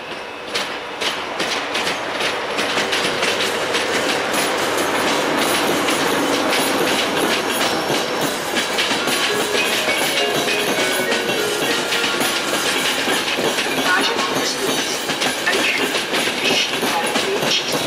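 EC 279 Danubius passenger train pulling out of Brno main station, a steady loud rumble of rolling wagons with rhythmic clickety-clack over rail joints and occasional wheel squeal, running continuously close by.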